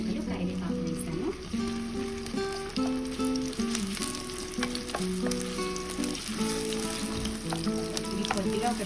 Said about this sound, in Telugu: ఇది కొద్దిగా ఒక 2 నిమిషాలు ఫ్రై చేసుకున్నాము.